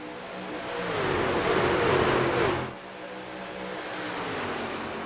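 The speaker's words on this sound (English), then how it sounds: "hearing the engine scream around Daytona" A race car engine in a PC racing game at Daytona, a loud sustained roar rising in pitch and then dropping abruptly as it fades to a steady lower drone.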